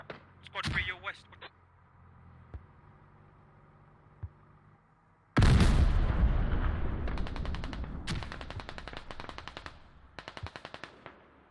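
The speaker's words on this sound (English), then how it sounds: "There was definitely a C4 explosion." A C4 explosion bursts in a competitive military shooter match on the Fools Road map, a sudden loud broadband blast that rumbles and decays, followed by rapid bursts of gunfire, with a voice heard briefly at the start.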